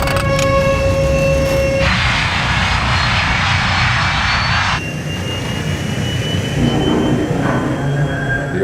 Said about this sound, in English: Captain Caviedes applies full throttle, burning up more of the plane's precious fuel